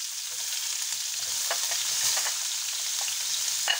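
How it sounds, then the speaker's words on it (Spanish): Onion and bay leaf frying in a pan, a bright continuous sizzle close up with a few soft stirring scrapes, no voices. "echamos ya la cebolla"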